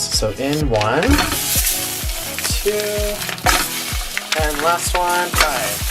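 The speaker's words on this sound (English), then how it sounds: "So now it's time to cook the sausages." Sausages cut into pieces sizzle and fry loudly in a pan at breakfast while someone talks over the steady crackle, with occasional stirring and clinks.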